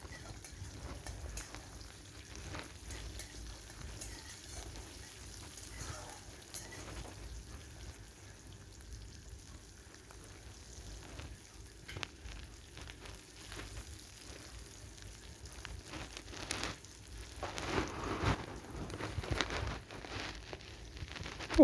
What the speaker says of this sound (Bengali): পেঁয়াজটা একটু খুব ভালো করে নেড়ে চেড়ে ভেজে নিতে হবে